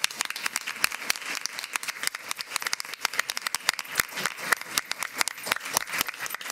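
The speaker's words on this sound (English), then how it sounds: "Let's give her a round of applause." A school board meeting audience applauds a teacher with steady, dense clapping from many hands, fairly close and continuous for several seconds with no talking over it.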